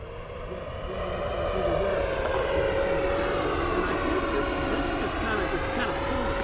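An FMS F-18 70mm EDF radio-controlled jet makes a low pass over a runway, its ducted fan a steady, loud whine with a high tone that swells as it nears and holds, with faint talk alongside.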